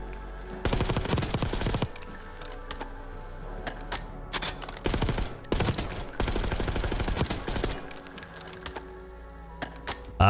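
Rapid bursts of automatic gunfire crack out in several loud volleys with brief pauses between, followed by a few single shots, all from the shooting range in the video game Warzone.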